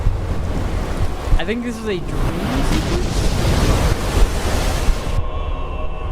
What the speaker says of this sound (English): Why am I driving? I'm like driving over the ocean?